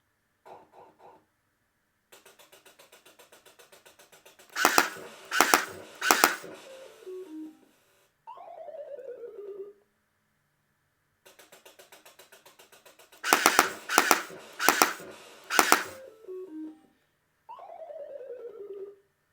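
Retro Shooter Pandora Box arcade light gun game: clusters of sharp electronic shots, three bursts at a time in two rounds, each followed by a descending tonal game jingle, with short beeps and quiet gaps between.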